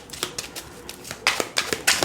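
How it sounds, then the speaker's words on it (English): Tarot cards are shuffled in quick papery riffles and taps, several short bursts close by with brief gaps between them. "Grab my trusty New Era Elements Tarot deck. Get it shuffled."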